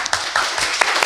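An audience at a public talk applauds the speaker, a brief burst of steady, moderately loud clapping from many hands in a hall.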